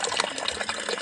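A brand-new washing machine fills itself with water, a brief, fairly faint splashing gush inside the drum.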